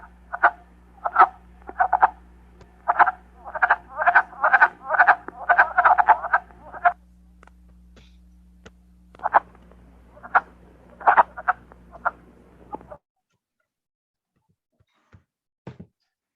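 A frog call recording from a Michigan frog call guide plays clusters of rapid, nasal, duck-like croaks in loud bursts, pauses, then sparser croaks before falling silent.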